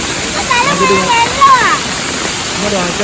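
Kanjirakolly Alakapury waterfall roars as a loud, steady rush of water plunging from a great height, with people talking over it.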